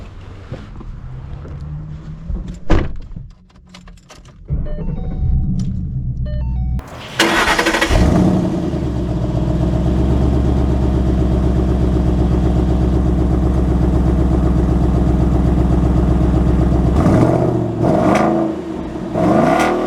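A Ford Mustang Boss 302 V8 cranks and fires with a loud roar, then settles into a deep, lumpy idle that rumbles steadily up close, with some clicks and handling noises beforehand.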